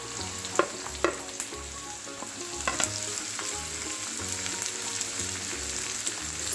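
Chopped cabbage stir-fries in a hot pan for vegetable fried rice, a steady loud sizzle with sharp scrapes and clacks of a spatula tossing the vegetables at an uneven rhythm.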